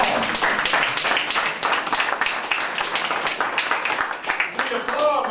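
Audience applause at a community activist's talk in Detroit, a steady wash of many hands clapping for several seconds, fairly loud and even throughout.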